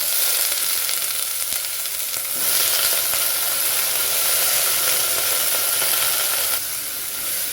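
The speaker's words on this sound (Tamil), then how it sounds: "இப்போ நம்ம கத்திரிக்காய் முருங்கைக்காய் போட்டு வதக்கிட்டு" Eggplant and drumstick pieces sauté in a pan with mashed tomato for sambar, producing a loud continuous sizzle and hiss with brief stirring scrapes, close up and with no talk.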